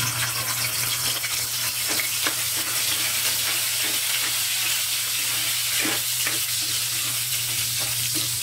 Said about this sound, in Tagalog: Pag mainit na ang mantika, ilagay ang bawang.